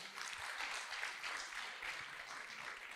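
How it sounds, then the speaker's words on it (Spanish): A church congregation applauds young people seated near the front: continuous, fairly faint clapping from a crowd, steady from start to end, with no talking over it. "Un aplauso a estos jóvenes aquí."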